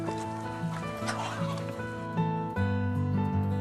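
Chickens on a small farm in Yeoju, Gyeonggi Province, where about 700 birds are kept, cluck over steady, tonal, music-like sound that carries on throughout.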